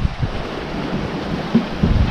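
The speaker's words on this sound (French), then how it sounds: "La mer elle est démontée quand même" Rough, choppy sea surges and slaps behind a sailboat under way off the Brittany coast between Lorient and Le Crouesty, a steady broadband wash with wind noise on the microphone and a couple of heavier low thumps as waves strike.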